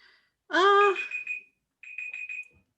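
An alarm clock rings in two short bursts, the first a loud warbling tone and the second a fainter repeated beeping, close by during a pause in conversation.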